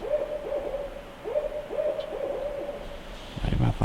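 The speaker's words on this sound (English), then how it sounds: "we got quite a few owls cranking up" Owls hooting before dawn during a public-land turkey hunt, a run of repeated hoots at moderate distance against a faint outdoor hush, ending in a brief louder rustle nearby.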